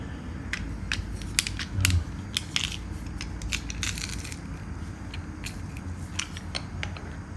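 Fresh garlic squeezed through a hand garlic press, a series of close crunching, creaking squeezes and sharp clicks with faint background murmur.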